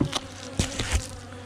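Italian honeybees buzz close to a hive, a dense steady insect drone marked by a few short louder passes as bees fly near.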